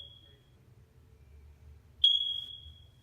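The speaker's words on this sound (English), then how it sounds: "The smoke detector." A smoke detector gives a single sharp, high chirp, following a faint earlier tone, heard indoors over a quiet low background hum.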